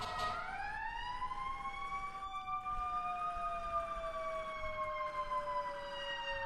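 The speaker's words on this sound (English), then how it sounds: "Alright, hearing a lot of sirens." Emergency vehicle sirens from the video game EmergeNYC wail continuously in a long rising and slowly falling tone, several overlapping, moderately loud and alone with no talk.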